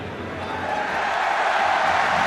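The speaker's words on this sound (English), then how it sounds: "The crowd are up, the flags are up." A rugby stadium crowd at a Heineken Cup quarter-final between Toulouse and Leinster, a broad steady roar of cheering that swells slightly louder, with a commentator's voice faintly over it.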